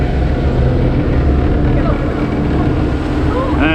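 Twin outboard engines on a boat under way off Miami Beach at dusk during a test run after repairs, a steady loud drone with wind buffeting throughout and a voice speaking over it.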